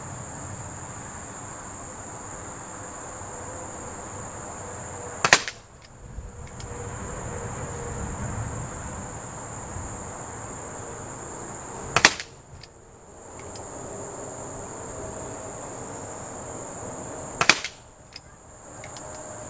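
A Crosman Vigilante .177 air pistol firing pellets at a target, three sharp, loud cracks spaced several seconds apart over a steady background of insect chirping, no speech.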